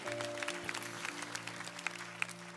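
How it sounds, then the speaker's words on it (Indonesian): Church congregation clapping for God at a service, sparse scattered claps over sustained organ or keyboard tones, fairly quiet and distant. "Tepuk tangan buat Tuhan gitu."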